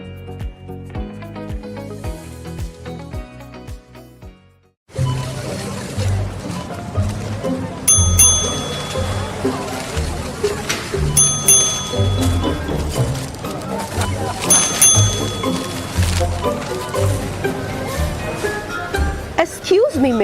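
Ding-ding chimes from shoppers collecting frequent shopper points ring out in several bright bursts over busy background sound and talking, after a calmer musical opening.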